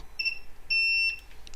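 Two clear electronic tones from a multimeter set to continuity mode while probing a Dell 11th Gen laptop motherboard, a short beep followed by a longer steady one, close and fairly loud.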